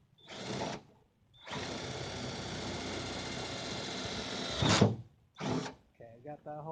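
A power drill boring holes in a 1998 Eclipse GS body for an aftermarket spoiler install: several whirring runs, one long steady burst between shorter ones, close up, with brief talking at the end.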